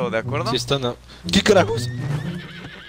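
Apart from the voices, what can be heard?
horse neighing in video game Red Dead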